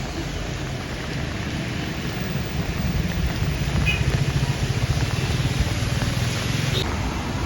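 Heavy monsoon rain pours steadily at Girgaon Beach in Mumbai with rough sea conditions, a dense, continuous wash of rainfall close by for the whole stretch, swelling slightly partway through.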